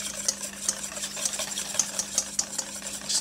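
Oil whisked into a mixture by hand, a steady run of light, quick metallic whisk strokes ticking against a bowl, close and fairly quiet over a low hum, with no talk.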